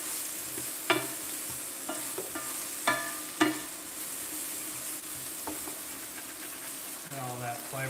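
Potatoes and bacon are stirred in a sizzling frying pan, with a steady soft fry hiss broken by several sharp scrapes and clinks of the utensil against the pan.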